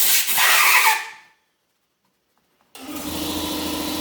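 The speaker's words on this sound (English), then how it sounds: "Oh, you can hear my compressor." An air compressor runs in a workshop, cutting in with a loud steady mechanical drone and low pulsing hum after a brief silence. A burst of other shop noise fades out before it starts.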